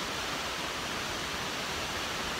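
A state forest waterfall in winter, with ice on its rock walls, gives a steady, dense rushing roar that holds unchanged throughout, with no voices.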